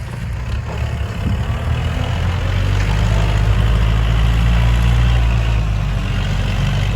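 A Kubota MU4902 farm tractor's diesel engine runs nearby, a heavy low rumble that builds slightly and then holds steady throughout.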